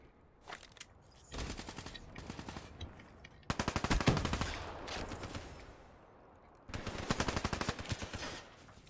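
Automatic weapon fire in Call of Duty: Black Ops III, rapid rattling bursts, a short one early, then longer loud sustained volleys separated by brief pauses.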